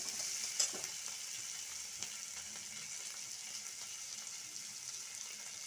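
Onion and spices frying in a pan with a little coriander leaf, for a spicy steamed egg-in-onion dish. The steady, fairly quiet sizzle runs unbroken, with an occasional soft stir click.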